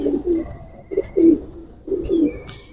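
Bullet teddy pigeon chicks coo softly in three short repeated bursts, close by, with a faint high tone behind them and no voices.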